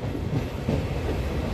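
A 67248 Guntur–Vijayawada MEMU train running near Nambur, with a steady, moderately quiet rolling rumble and rhythmic wheel clatter throughout the short moment.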